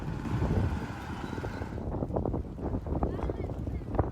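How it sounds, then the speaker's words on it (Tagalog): Strong typhoon wind in Tagbilaran City, Bohol, during Typhoon Basyang buffets and roars across the microphone, with gusty rumbling and a faint voice speaking underneath. "Malakas na rin ang alon at hangin"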